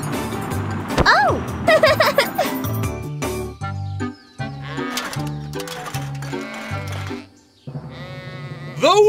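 Cartoon sheep at a fluffiest-sheep contest bleat several times in bright, exaggerated voices, mixed with tinkling jingles and playful music, with character voices speaking between the calls.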